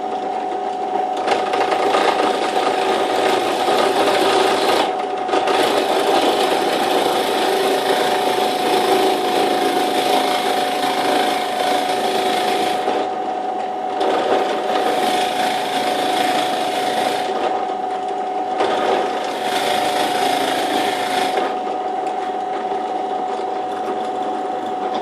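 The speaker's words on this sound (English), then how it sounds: "So hopefully now we can just drill that hole through." Drill boring a hole through a timber block for a homemade gouge-grinding jig, a loud steady whine with a grinding cutting texture, running in long stretches broken by a few short pauses.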